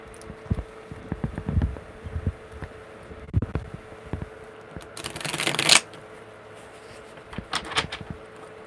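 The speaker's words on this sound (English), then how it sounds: "one more good shuffle" Tarot cards shuffled by hand during a live card reading, soft riffling and tapping bursts building to one long, crisp riffle near the middle, then a few lighter taps, with no talking.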